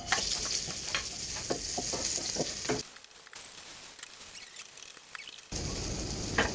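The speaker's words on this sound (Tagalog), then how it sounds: "Magigisa na ako" Garlic and onion sautéing in a pan give a loud, steady sizzle with light stirring. The sound drops to a quieter hiss midway, then the full sizzle returns at the end. No voices.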